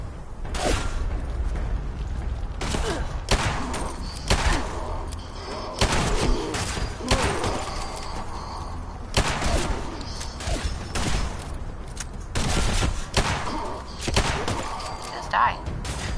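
Repeated gunshots and heavy thuds in a PS4 shootout game burst out in irregular clusters across a steady busy backdrop, loud and close, with voices talking over parts of it.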